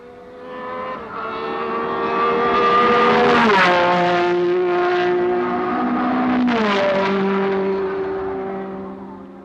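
Open-wheel racing cars at the 1969 Tasman Series grand prix scream past one after another, engines rising as they approach and dropping in pitch as they pass, loud and close over a continuous roar.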